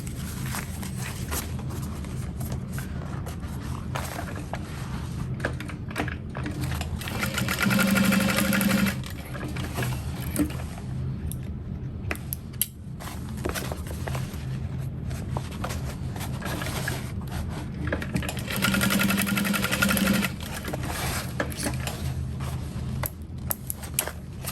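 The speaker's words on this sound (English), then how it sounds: "follow a 1/4 inch seam allowance. Back stitch at the start and the stop." A sewing machine runs two short bursts stitching a quarter-inch seam with back stitching at start and stop, faint and close, over a steady background hum.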